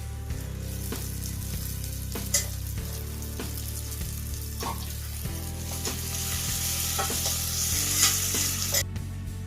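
Garlic and green chillies fry in hot oil with a steady sizzle, punctuated by repeated spatula stirs and scrapes against the pan, close and continuous without speech.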